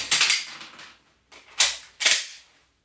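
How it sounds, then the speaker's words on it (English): Pistol slide locked to the rear and the magazine stripped out during dry-fire practice: a sharp metallic clack, a short pause, then two more crisp clicks, close and alone. "I'm going to lock my slide to the rear,"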